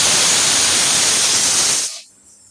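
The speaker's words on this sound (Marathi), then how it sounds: "एक शिट्ट्यांचा आवाज येतोय, ते आमची मसूरची डाळ शिजते." A pressure cooker cooking masoor dal lets off a loud, steady steam hiss close by, which cuts off abruptly after about two seconds.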